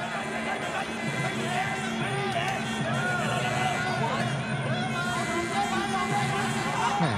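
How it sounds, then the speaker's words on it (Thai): Spectators at a women's Muay Thai fight keep up a loud, steady cheer for the blue corner, a thick babble of shouting voices that carries on under a commentator's talk. "เฮฮาปาร์ตี้คึกคืนเลยครับกองเชียร์ทางด้านมุมน้ำเงินครับ"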